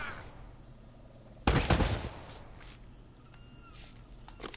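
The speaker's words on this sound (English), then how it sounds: "Was I shooting the air next to him?" A short loud burst of gunfire in Uncharted: Drake's Fortune, a cluster of shots lasting about half a second, followed by faint scuffling steps and a few quieter pops in a quiet scene without music.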